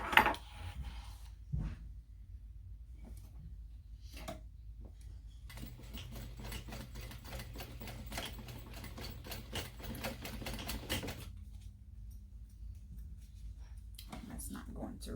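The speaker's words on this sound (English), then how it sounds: "I'm going to stitch down the sides at the width of my zipper foot, which is 1/4 inch." A sewing machine fitted with a zipper foot stitches down the sides of a small backpack in a quarter-inch seam, running in a steady rapid whir for several seconds between short bursts and pauses, with brief clicks and handling noises.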